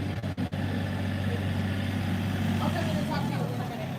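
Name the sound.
tractor engine running in background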